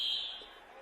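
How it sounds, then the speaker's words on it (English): Fire alarm blaring in a Buffalo Wild Wings restaurant in Hermitage, a steady shrill high tone, loud and close, fading slightly within a second, with no one speaking over it. "Fire alarm."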